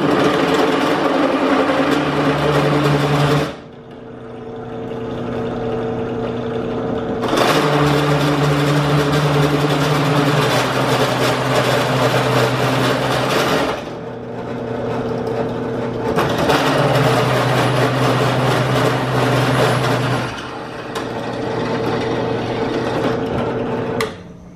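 Electric drill with a drill bit from a URREA bit set, run with lubrication and light pressure, whirring steadily and loudly in three long bursts with short quieter gaps between them, no talking.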